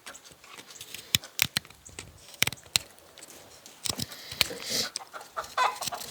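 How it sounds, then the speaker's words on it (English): A rooster clucking nearby, in sharp, irregular bursts with quiet gaps between them and busier, louder calls toward the end. "please don't eat the rooster"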